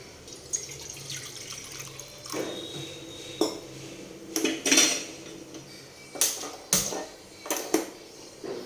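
Water poured and splashing into a kitchen vessel for betel leaf green tea, heard as several separate bursts of pouring with clinking of pots and utensils in between, fairly close and without speech.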